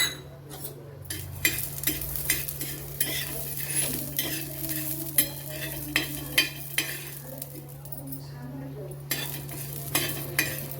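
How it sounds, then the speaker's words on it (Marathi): Whole coriander seeds dry roasting in a pan for egg curry, with steady scraping and stirring, a soft sizzle and scattered light clinks of a spoon against metal, close by over a constant low hum. "सगळ्यात पहिले आपण धणे भाजून घेऊ"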